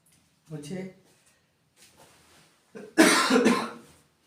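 A short cough, then after a pause a loud burst of harsh, heavy coughing close to the listener, lasting about a second.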